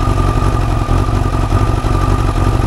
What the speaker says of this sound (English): this is all to see if the bike runs worth continuing with the project